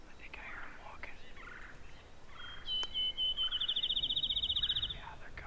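A wild turkey gobbler in Missouri woods lets out a rapid, rattling gobble that swells in the middle of the clip. The bird sounds fairly close against quiet rustling background.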